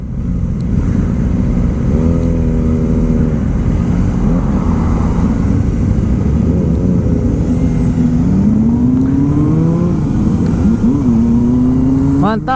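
Custom motorcycles rev on a Japanese road at night, a continuous loud engine roar with rising and falling revs, several throttle blips climbing in pitch, over steady wind-like rumble.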